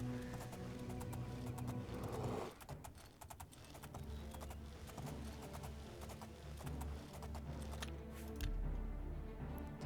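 Horse hooves clip-clopping while riding in the video game The Elder Scrolls IV: Oblivion, a steady rhythmic trot heard close up over a busy, layered game soundscape.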